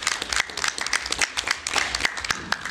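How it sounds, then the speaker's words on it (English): An audience claps to welcome a speaker at a presentation, a short burst of brisk, uneven hand claps from a smallish group, close and fairly quiet, without talk over it. "let's all give Dr. Gale a small hand clap"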